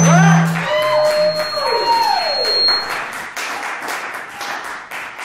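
Crowd applause and whoops for the band at an open mic night at the Volstead, loud clapping with shouts and a tonal whistle at first, thinning into scattered claps and chatter.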